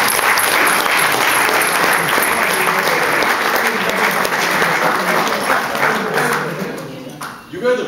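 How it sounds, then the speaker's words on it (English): Dense audience applause fills a UK hall during a performance, loud and sustained for several seconds with cheering mixed in, then tapering near the end. "So give yourselves a round of applause."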